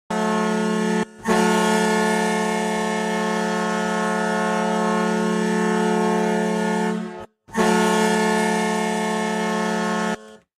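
A recreated ECHL hockey goal horn, built from four layered notes, blasts a loud, sustained, chord-like drone, stopping briefly for a moment before sounding again and then cutting off, with no talking.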